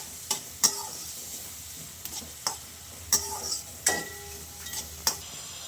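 Onions fry in a pan for a restaurant-style kadai veg, a spoon scraping and tapping against the metal in an uneven series of sharp clicks over a low, steady sizzle, close and alone.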